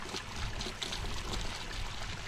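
Water pours steadily into a backyard pond liner over submerged aqua blocks, a close, continuous splashing trickle with small bubbling bursts and no voices.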